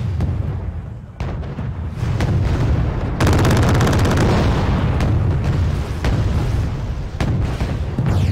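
Heavy weapons fire from Congo warships in Wargame: Red Dragon, a dense, sustained barrage of booming shots and explosions with repeated sharp cracks layered over a continuous low rumble, loud and without speech.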